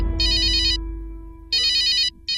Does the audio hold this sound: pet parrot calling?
no